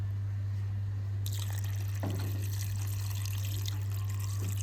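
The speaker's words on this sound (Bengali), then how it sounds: "এবার আমি জল দিয়ে দেবো জল দিয়ে ঢাকা দিয়ে আমি জাল দেবো" Water poured into a pot of spice-coated hilsa fish, a soft, steady pour over a constant low hum, with no voices.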